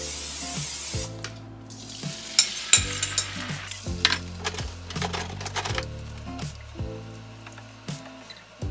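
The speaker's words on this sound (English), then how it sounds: "now we're gonna plop this on the stove and we're gonna make some scrambled eggs" Scrambled eggs cook in a pan on the stove with an opening hiss of sizzling, then faint frying and irregular clicks and taps under louder background music.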